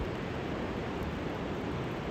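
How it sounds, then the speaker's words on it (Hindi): A swollen mountain stream in Sangla Valley, Himachal, rushes during heavy rains, heard as a close, steady, broadband roar of flowing water with no pauses and no voices. "ये देखो पानी का बहाव"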